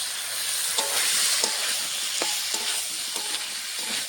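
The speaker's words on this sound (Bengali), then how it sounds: "এখন সবজির সঙ্গে একটু কষাবো, দিয়ে দেবো ভেজে রাখা সবজি দিয়ে দেবো" Vegetables stir-fried with spice masala in a pan for a Bengali cauliflower and fish curry, a steady close sizzle broken by repeated scraping strokes of a spatula, with no talk.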